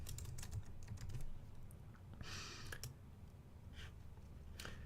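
Keys on a computer keyboard are tapped in short, uneven bursts of soft clicks, heard close but faint over a low steady room hum.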